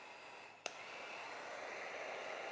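A heat gun warms a craft project, its steady airy blower hiss starting right after a sharp click and holding fairly quietly and evenly on its own.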